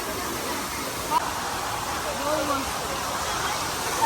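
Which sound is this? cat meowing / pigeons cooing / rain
rain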